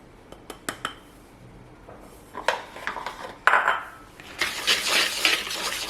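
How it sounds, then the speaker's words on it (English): A bowl of all-purpose flour, cinnamon, cardamom, baking soda, salt and baking powder being mixed by hand. Scattered scraping and clinking of a utensil against the bowl, sparse at first, then a denser, brisker run of stirring toward the end. "Mix that nicely so that everything is incorporated."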